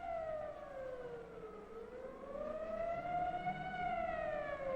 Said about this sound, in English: the siren sounds once more.